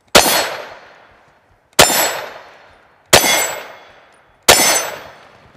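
Four sharp metallic clangs of frangible bullets striking a steel shooting target at a range, evenly spaced about one and a half seconds apart, each loud and ringing briefly before decaying.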